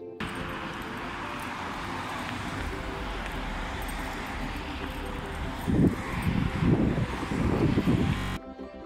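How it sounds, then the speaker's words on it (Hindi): Strong wind buffets the microphone outdoors on a walk in Melbourne, a continuous roar that swells louder toward the end before cutting off. "इतनी हवा चल रही है"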